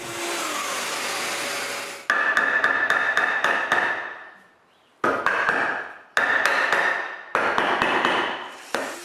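Chisel and mallet cutting mortises in a carved wooden shelf: bursts of sharp, loud percussive strikes in quick succession, separated by short pauses, with a whirring hiss between some bursts.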